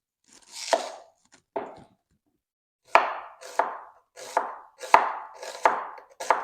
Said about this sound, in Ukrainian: Дрібненько не потрібно нарізати, ріжу на напівкільцями